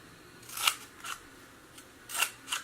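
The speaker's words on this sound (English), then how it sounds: "now this one I don't want it so tall, so I'm just gonna cut it off." Scissors cut through a plastic planting container for sunflower seeds, five close crisp snips in an uneven rhythm, with a soft crunch of plastic on each cut and no talking.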